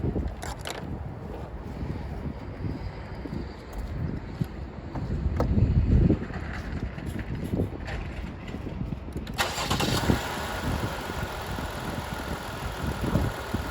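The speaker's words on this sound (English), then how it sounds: "we're gonna go ahead and start it now and see what we got" A 2020 Chrysler Pacifica 3.6L engine cranking and starting after an alternator replacement, with rough mechanical churning that builds, then settles into a steady idle rumble with a faint high whine, heard close in wind.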